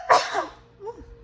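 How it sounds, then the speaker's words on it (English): A single sharp sneeze bursts out close to the microphone, loud and sudden, then trails off into a short breathy tail and a faint vocal murmur. "I just sneezed."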